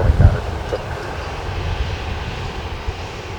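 Sunwing Airlines Boeing 737-800 jet engines in a steady loud rumbling roar with a low thump at the start, heard alongside radio chatter from the tower.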